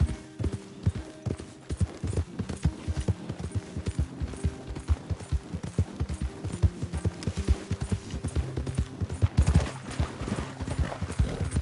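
Horse galloping in Red Dead Redemption 2, a steady rapid clip-clop of hooves close by, continuous and rhythmic with slight swells in loudness and faint tack rattling.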